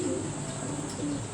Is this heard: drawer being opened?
no